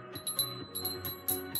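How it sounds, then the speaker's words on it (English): Metal begleri rings on fade cords clink together in quick bursts, small bright bell-like chimes repeating several times close by and fairly quiet. "They sound like bells, like a little bell. The rings ring."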